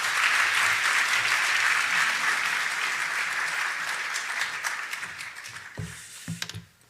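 Steady, dense applause from a church congregation fills the room, gradually thinning out and ending with a few scattered claps.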